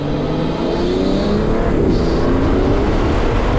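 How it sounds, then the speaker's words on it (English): A Toyota Supra with an Armaspeed intake, downpipe and JB4 tune on E85 accelerates hard on back roads, its engine note sweeping upward loudly and continuously with intake whoosh, heard from inside the car. "That intake is really loud."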